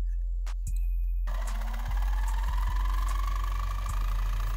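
A brushless motor spins up a generator in a Lenz's law demonstration. After a couple of clicks, a steady mechanical whine and hum rise in pitch as the motor gains speed, loud and close with no talking.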